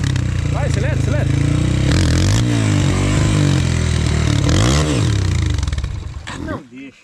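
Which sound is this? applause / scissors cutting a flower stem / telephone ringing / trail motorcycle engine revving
trail motorcycle engine revving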